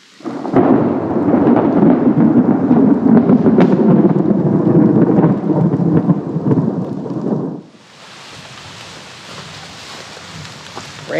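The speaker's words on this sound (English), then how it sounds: "I hear thunder, see some lightning in the distance" A long, heavy roll of thunder rumbles loudly over steady rain at an old Florida homestead, then fades, leaving only the hiss of rainfall.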